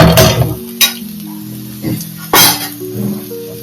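Food sautéing in a pan in a home kitchen, soft sizzling under several sharp clinks and scrapes of a utensil against the pan, close and fairly loud in short bursts.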